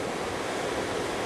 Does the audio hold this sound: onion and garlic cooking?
no